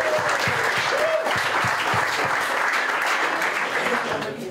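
An audience at a live Gaelic football show in Trillick, Tyrone, breaks into a steady round of applause, dense and continuous clapping that holds for the whole stretch and fades slightly at the end, with voices faintly underneath.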